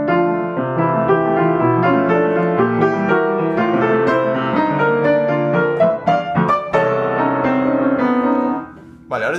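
Piano passage played staccato while the sustain pedal holds the harmony, with full chords repeating steadily and ringing together for about nine seconds before fading out at the end.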